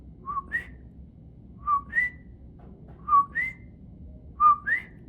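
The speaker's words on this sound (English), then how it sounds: "At nighttime, we would hear the sound of the frog, coqui." A coqui frog in the Puerto Rican rainforest at night repeats its two-note rising call four times at even intervals, clear and fairly near over a faint hum of background noise.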